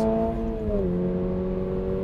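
A Toyota GR86 sports car engine holds a high, steady rev around 7,000 rpm, its droning note dipping slightly then sustaining loud and close throughout.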